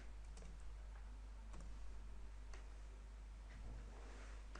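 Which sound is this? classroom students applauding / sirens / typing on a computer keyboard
typing on a computer keyboard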